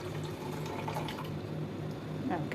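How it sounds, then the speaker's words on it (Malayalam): Milk is poured into a caramel vanilla pudding mixture, a steady close liquid stream splashing continuously, with faint background noise throughout. "2 കപ്പ് മിൽക്ക് ഒഴിക്കാം"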